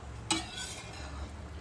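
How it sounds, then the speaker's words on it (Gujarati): Aloo paratha fries in oil in a pan, a soft steady sizzle with a brief clink of a utensil near the start, then a low continuous hiss throughout. "આ રીતના આપણે પરોઠા બધા બનાવીને તળી લઈશું"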